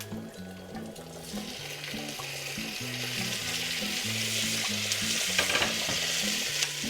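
Tomatoes cook with spices in a pan, a soft continuous sizzle and bubbling hiss that swells slightly, with a low melodic tune playing underneath and no one speaking.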